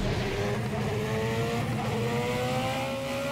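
A Ferrari F49 engine in a vehicle simulator video game revs loudly and steadily, its pitch rising and climbing again through the clip with a raspy, retro engine tone and no voices.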